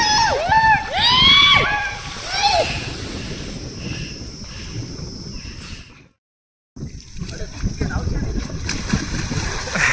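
Friends jump into the warm water of the Godavari river with loud splashes and sloshing, set against a running stream, with people talking and shouting throughout and a brief silent gap partway through.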